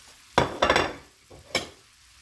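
Beef fried noodles with onion stir-frying in a pan, giving a few bursts of sizzle and scraping stirs with quieter gaps between, close and fairly loud, no talk.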